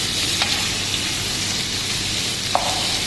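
Brinjal sautés in a pan, giving a loud, dense, even hiss of frying with a couple of brief sharp clicks from a utensil.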